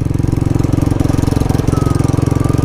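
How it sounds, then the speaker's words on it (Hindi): Royal Enfield Bullet motorcycle with a misfiring engine, a steady close thumping idle with an uneven, stumbling beat that carries on throughout. "ये देखो मिसिंग मार रही है भाई बाइक।"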